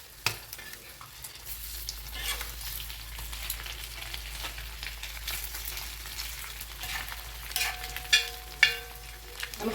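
Egg curry masala sautéing in a pan for muttai kulambu, a continuous close sizzle with scraping and stirring strokes that grow sharper and more pronounced toward the end.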